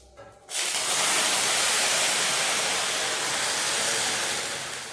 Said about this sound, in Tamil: தண்ணியை இதில் மெதுவாக விடணும்.